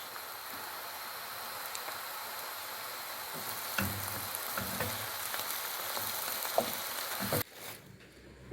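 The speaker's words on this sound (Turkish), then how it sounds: "Ve soğanlarımız bir miktar sotelendikten sonra küçük küçük doğradığımız patlıcanlarımızı da dahil ediyoruz." Diced onions and eggplant sauté in a pan, giving a steady, soft sizzle and crackle with faint stirring ticks, then a sudden drop to quiet near the end.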